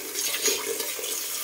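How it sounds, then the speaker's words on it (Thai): Running water pours steadily over freshly foraged nettle leaves being washed by hand, a continuous close splashing rush with no talk. "ยายขอล้างก่อนเด้อเพื่อน"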